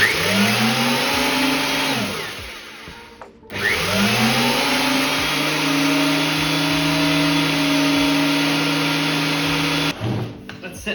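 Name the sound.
thicknesser planer switched on and running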